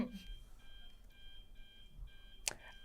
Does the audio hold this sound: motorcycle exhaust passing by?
no